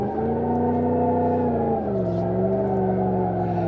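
A car engine in BeamNG.drive drones steadily at high revs on standard tires as the car loses grip and spins out, the pitch dipping partway through, loud and close with no talk.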